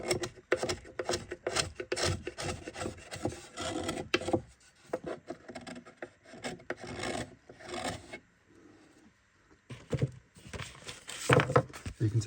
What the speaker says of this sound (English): Once we've done that, we will then sand this.